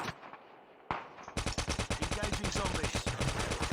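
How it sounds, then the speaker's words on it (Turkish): Rapid automatic gunfire from the mobile shooter game Call of Duty Mobile, zombie mode, rattles in a dense, steady burst after a brief single shot, loud and continuous against a faint game background. "Zombileri vuruyorum."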